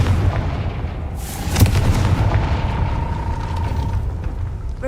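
A Confringo blasting spell goes off in Hogwarts Legacy, a sudden booming burst at mid-clip over a steady game ambience with a low rumble and a faint sustained tone.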